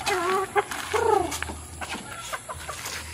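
Backyard hens clucking while being fed, a few close, loud clucks and squawks early on, then scattered softer pecking noises and small calls from the flock.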